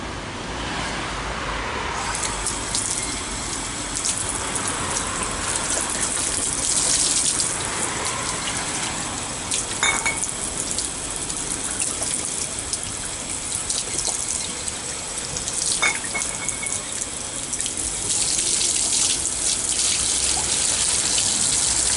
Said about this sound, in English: I'm just going to uncap them, rinse them quickly